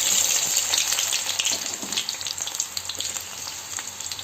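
Carrot and beetroot chips frying in hot oil, a dense crackling sizzle up close that eases slightly over a few seconds, no talk.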